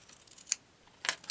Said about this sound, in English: I'm going to trim right up that line with my scissors.